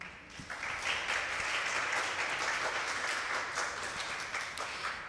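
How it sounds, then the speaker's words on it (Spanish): An audience at a nutrition lecture gives a speaker a strong round of applause, steady dense clapping that holds at an even level throughout. "Por favor, un fuerte aplauso nuevamente."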